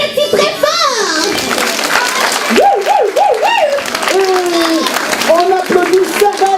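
Clapping from a festive holiday TV show audience mixes with children's voices and lively sliding, whooping vocal sounds, the applause running underneath throughout.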